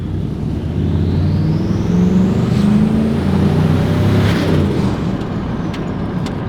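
A turbocharged Chevrolet Silverado pickup drives past, its engine and intake giving a steady low, loud drone with a rising whistle as boost builds across the clip, under a broad wash of road and wind noise.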